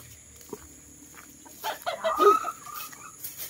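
A black hen clucking close by in a farmyard, a short run of soft clucks and throaty calls rising in the middle of the clip.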